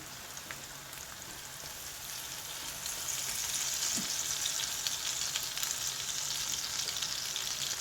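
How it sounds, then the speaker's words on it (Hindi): Brain masala frying in a pan as boiled chilies go in, a steady rain-like sizzle that grows louder and denser partway through, close and without speech. "अब मैं इसके अंदर डालने लगा हूँ, मर्च डालने लगा हूँ जो हमने बॉईल किया था अभी।"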